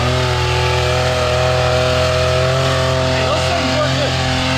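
A 400 HP Can-Am X3 side-by-side fitted with saw blade wheels drones loudly and steadily up close, its engine holding a sustained revving tone throughout, with voices briefly talking over it.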